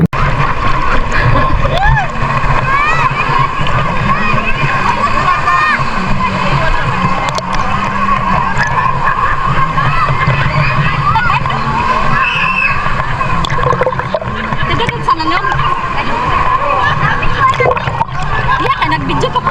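Sea water at Sea Eagle Beach Resort churns and splashes loudly and continuously at close range, a dense rushing wash with no pauses for the whole stretch.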